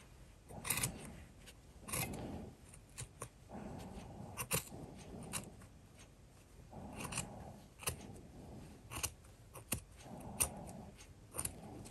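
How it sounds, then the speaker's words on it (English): Scissors snipping fabric for a face mask, a quiet close series of short crisp cuts and clicks repeating unevenly over several seconds. "I cut it in a little bit so I can sew it on"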